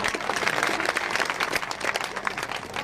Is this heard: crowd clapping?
yes